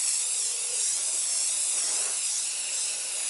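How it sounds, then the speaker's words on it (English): Penetrating oil sprays steadily from an aerosol can onto an RC boat propeller, one continuous close hiss that holds at an even loudness. "I basically just spray down the penetrating oil"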